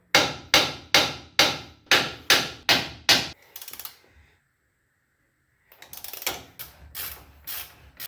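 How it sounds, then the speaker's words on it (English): A hammer strikes crusty, rusted steering gear bolts on the frame of a 1987-91 Ford F-150: seven sharp, evenly spaced metallic taps, then a short rattle, a silence and a few softer clanks. "We can go ahead and give them just a couple little taps as well."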